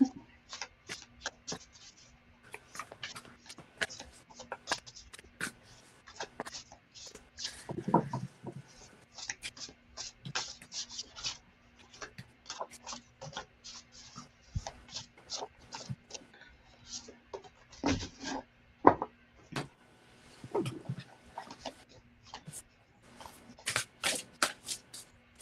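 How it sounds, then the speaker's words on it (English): Tarot or oracle cards are shuffled for an intuitive reading, soft irregular riffles and slaps repeating close up, with quiet voices talking intermittently. "Shuffling away, shuffling away."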